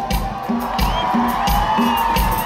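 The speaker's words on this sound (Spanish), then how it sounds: "¡Pero que suene ese aplauso para las" A live concert crowd cheering and whooping loudly and continuously, with a steady thumping beat running underneath the noise.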